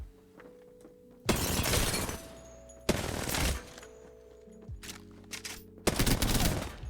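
Bursts of rapid automatic fire from an R9 rifle in Apex Legends, sprayed without recoil control: three loud, sharp volleys separated by quieter gaps with faint in-game tones.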